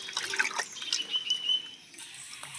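Cut banana flower (mocha) being washed in water, soft splashing and trickling with scattered drips and light rustles, fairly quiet and close, no voices.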